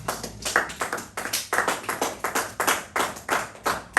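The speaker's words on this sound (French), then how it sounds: "On acclame la parole de Dieu." A church congregation applauds in a steady run of broadband claps with rhythmic swells, fairly close and sustained across the whole stretch, with no talking over it.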